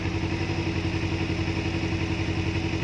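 A motorcycle engine idles steadily at about 1100 RPM, a close, even, continuous mechanical hum with faint clatter and no speech over it.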